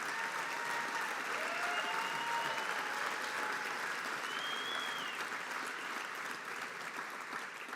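An audience gives a steady, sustained round of applause at a show, a dense wash of many hands clapping at an even level with no voices over it.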